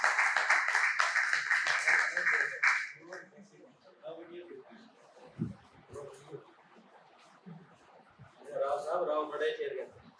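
Audience applause greets Urdu poet Rao Sanwal Sajad at a poetry gathering in Sarkar Studio, Multan, with a dense burst of clapping for about three seconds that fades into scattered claps, murmurs and talk, then swells briefly again.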